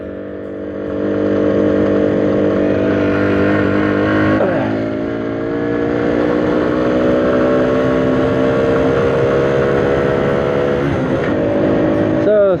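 A motorcycle rides along a snowy back road, its engine droning steadily and loud with shifting pitch as it accelerates, lasting throughout with no talk.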